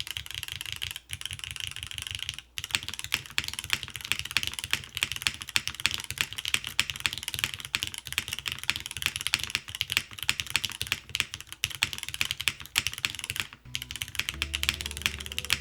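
Steady, fast typing on a Neo98 mechanical keyboard, a dense run of close, crisp keystrokes with full-sounding presses and a few brief pauses, no voices.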